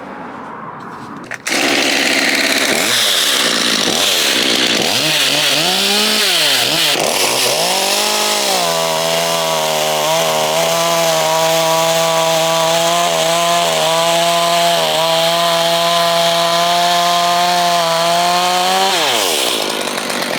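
A chainsaw fitted with a Panther chain starts up, revs in rising and falling surges, then holds a loud steady high-pitched whine before cutting off, close by with no talk.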